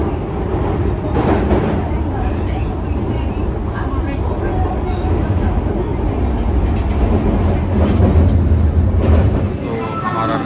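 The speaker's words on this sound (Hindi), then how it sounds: "तो हमारा मेट्रो का स्टॉप आ गया, अब हम चलेंगे होटल की तरफ।" A Japanese metro train rolls along with a steady, loud rumble and rail clatter heard from inside the car, and voices talk over it throughout.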